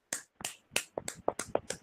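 Hand claps at a church women's fellowship gathering, around seven sharp, close strikes in an uneven rhythm, with no voices over them.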